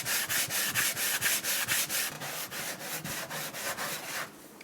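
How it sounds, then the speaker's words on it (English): A random orbital sander fitted with worn 120 grit paper works over wood. It makes a close, rhythmic scratchy whir that swells and fades with each quick pass, about a dozen strokes, then stops. "it was kind of a worn down 120 grit on the random orbital"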